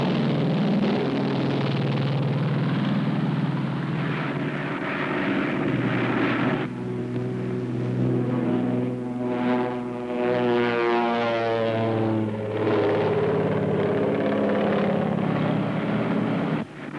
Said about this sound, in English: Plane is following us.